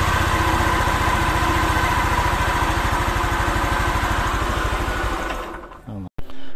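Motorcycle engine that would not start without a fault code, now running and revved: a loud, fast steady pulsing throb that fades near the end and cuts off abruptly, with a brief burst after.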